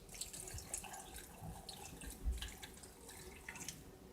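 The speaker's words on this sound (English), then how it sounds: "what I will do is to add a little bit of water." Water pours from a tap and trickles into a blender with plantain and cassava for fufu, a faint running and dripping sound close by with no talk.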